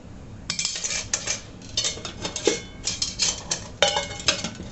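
Metal camp cookware clatters and clinks as pots and pieces are nested and pushed together, a close, busy run of bright scrapes and knocks in irregular bursts with no talking.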